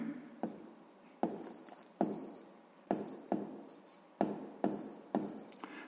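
A pen scratches out a sixth-grade maths solution in short, repeated strokes, about eight of them in an even rhythm, close and fairly quiet.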